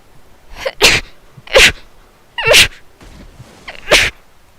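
Four sharp sneezes, loud and close, spaced about a second apart with brief inhales before each, no talk between.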